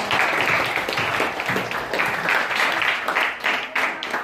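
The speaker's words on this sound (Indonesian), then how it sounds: "Kita kasih aplaus dulu untuk kawan." Applause from a high school mathematics class in Batam, Indonesia, a steady crowd of hands clapping for several seconds with some voices mixed in beneath it.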